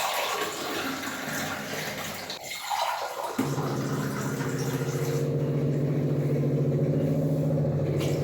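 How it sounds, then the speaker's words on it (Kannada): Water pours steadily into a pot of radish sambar being readied for pressure cooking, a continuous splashing rush that briefly dips, then settles into a fuller, even gush until the end. "ನೀರು ಹಾಕ್ತೀನಿ"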